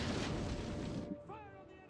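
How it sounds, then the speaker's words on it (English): Explosive-shot cannon fire in Total War Rome 2 lands as a loud, dense battle rumble of booms for about a second, then drops away into quieter background noise with faint tonal sounds. "No, he is using explosive shot."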